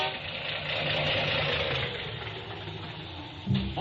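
Car engine misfiring, a rough uneven idle with a loose knocking rumble running steadily, then a short louder sputtering burst near the end.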